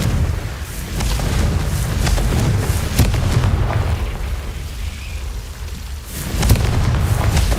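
Fiery explosion from the Confringo spell in Hogwarts Legacy, deep rumbling booms with crackling bursts, loud and continuous, surging again near the end.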